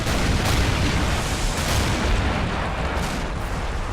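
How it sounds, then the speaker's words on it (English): Artillery fire in the Men of War Assault Squad 2 video game, a dense, loud barrage of booms and blasts rolling continuously with no pauses or talking. "But the level of artillery fire, it's already... It's already taken out a decent amount of the defenses."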